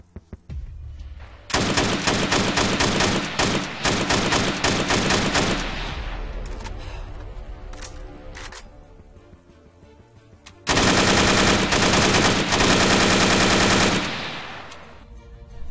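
Automatic rifle fire from an AK-pattern weapon such as the RPK-47 in Arma 3: two long, loud sustained full-auto bursts separated by a quieter stretch of echoing tail, with no talking.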